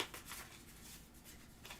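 A deck of cards for the deck-building board game Solar Titans is riffle-shuffled, producing soft, quick papery flutters in a few bursts, close but faint, with no talking.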